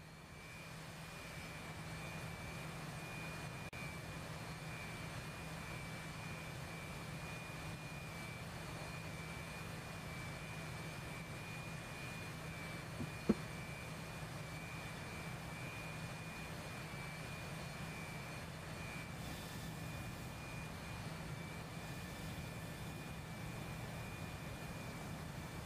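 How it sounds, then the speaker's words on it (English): Jet aircraft engines idling in a flight video game, a steady, faint, even whine and rumble with a constant tone, one brief click near the middle, no voices. "All the engines are turning and burning."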